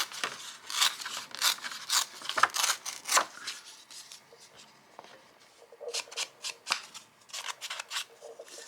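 Paper being torn by hand while making a paper-doll collage, a run of crisp ripping and rustling bursts coming in uneven spurts, close up, with a brief pause midway before more tearing.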